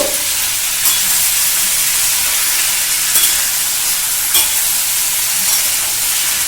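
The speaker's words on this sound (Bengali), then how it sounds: "এবার দেখুন আমি কিন্তু ফোড়নের সঙ্গে আলুটাকে সুন্দর করে কষে নেব" Potatoes fried with tempering spices and asafoetida in a pan for kachori curry: a loud, steady, close sizzle with occasional scraping stirs, no talk.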